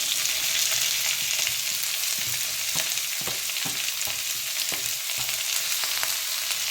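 Four medium-sized chopped onions fry steadily in hot oil in a pan, a dense continuous sizzle with occasional soft stirring clicks, close and loud with no talking.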